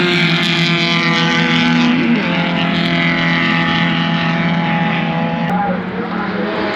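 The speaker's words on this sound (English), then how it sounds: "if you're really hauling the mail here in a Spec Miata, you're not even lifting for this corner" A Spec Miata race car held at full throttle through a fast corner at Hallett, its engine a steady, loud, sustained drone close by with a brief pitch shift midway, partly masked by wind rush.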